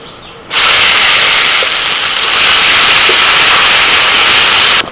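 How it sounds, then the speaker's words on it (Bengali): Turmeric, Kashmiri chilli powder and ginger-green chilli paste hit hot oil after cumin tempering, bursting into a loud, sudden close sizzle that holds steady for several seconds and then stops abruptly. "এবার তেলের মধ্যে দিয়ে দিচ্ছি একটু হলুদ গুঁড়ো কাশ্মীরি লঙ্কার গুঁড়ো আদা কাঁচা লঙ্কা বাটা"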